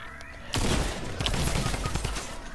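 A Mythic drum gun in a video game sprays rapid automatic fire that starts abruptly and rattles on without pause, loud and near, with no talking.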